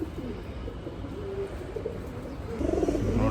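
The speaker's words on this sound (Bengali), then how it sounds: "ওর মাদিটা আমি জাস্ট হাতে আনছি আর ওর পুরো একদম ডাকাডাকি শুরু হয়ে গেছে" A male pigeon coos repeatedly, a soft, low burbling call that swells toward the end and sits close but fairly quiet over a steady background hum.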